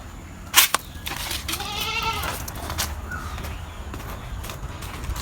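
A goat grazing outdoors near a mud-built chicken coop gives one clear, wavering bleat at moderate distance, with a sharp knock just before it and quiet open-air ambience around it.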